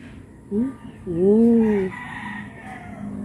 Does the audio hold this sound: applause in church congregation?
no